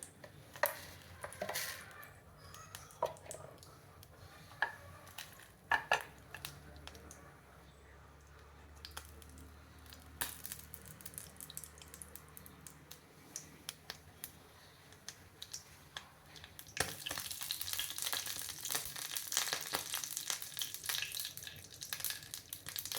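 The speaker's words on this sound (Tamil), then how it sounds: "தாளிப்புக்காக கொஞ்சமாக கடுகு" Mustard seeds splutter in a hot pan for tempering, with scattered sharp pops and crackles over a low sizzle that swells into a dense, louder spattering during the last few seconds.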